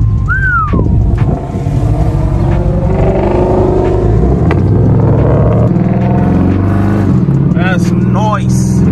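A Chrysler 300 with a catless exhaust revs loudly nearby, its deep engine roar rising and falling for several seconds while people talk over it.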